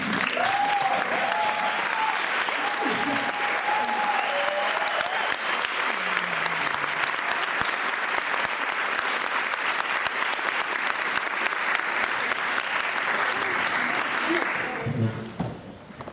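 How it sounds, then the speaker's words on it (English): An audience at a Women in Film and TV event during Berlinale 70 gives a long, full round of applause, dense and steady for about fifteen seconds with faint voices underneath, before it trails off and talking begins. "please stand up so you can enjoy a round of applause"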